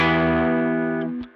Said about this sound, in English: This is a serious overdrive pedal.